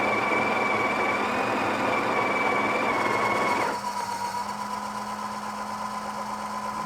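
A Breville Oracle BES980 coffee machine automatically grinding coffee, a loud, steady mechanical whir and buzz close by that drops suddenly to a lower, quieter hum partway through and keeps running.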